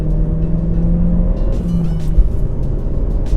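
Turbocharged Vauxhall Corsa VXR, a quick small hatchback, driving at speed, with a steady engine drone and road rumble heard from inside the car and no voices.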